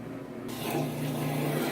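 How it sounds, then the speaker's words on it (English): Wash water from a CatGenie self-cleaning litter box drains into a toilet, a steady close rushing flow that swells and keeps running without a break. "Here's how it drains into the toilet."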